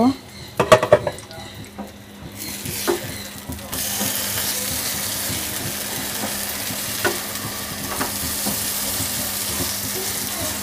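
Eggplant frying in a little oil in a pan over medium-low heat: a few sharp clatters of the lid and utensil come first, then a steady, continuous sizzle as the slices are flipped.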